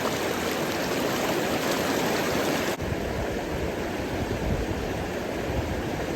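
Heavy river water rushing in a Vermont fly-fishing stream, a loud, continuous wash of flowing current heard up close, briefly shifting in tone partway through, with no speech.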